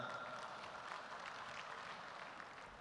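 Audience applause for the mayor of Makassar at an APEKSI national city-government meeting, a steady wash of many hands clapping throughout, fairly faint and distant as if heard across a large hall.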